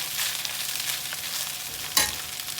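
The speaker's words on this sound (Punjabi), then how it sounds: "ਹੁਣ ਆਪਾਂ ਨੇ ਕੀ ਕਰਨਾ ਹੈ ਚੰਗੀ ਤਰ੍ਹਾਂ ਮਿਕਸ ਕਰ ਦੇਣਾ" Sweet rice is stirred and mixed in a pan, giving a steady soft scraping and sizzling texture throughout, with one sharper scrape near the end.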